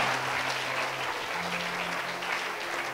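A church congregation breaks into steady applause to acclaim the Lord, a dense, sustained wash of clapping with faint voices and a low sustained tone underneath.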